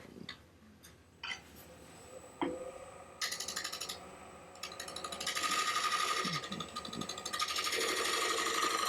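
A woodturning tool cuts a cherry bowl spinning on a lathe, scraping and chattering in ticking bursts that begin sparse and grow into a steadier, louder rasp.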